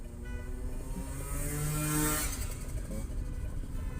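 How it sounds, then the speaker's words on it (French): A loud engine revs up and swells to a roaring peak, then holds a rough, throaty drone, close by with crowd noise beneath. "c'est ma voiture qui a le plus gros moteur en termes de bruit"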